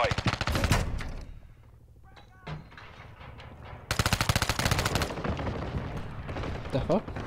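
Submachine gun fire in Call of Duty Mobile, loud rapid bursts at the start and again in a long sustained stretch later, with quieter gaps between and voices talking in the background.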